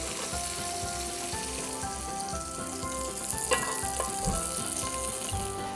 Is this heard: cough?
no